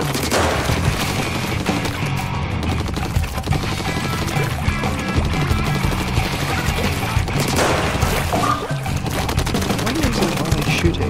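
Splatoon 3 ink guns fire in rapid, continuous bursts, a dense splattering rattle over busy game music and effects that keeps going for the whole stretch, with some talking mixed in.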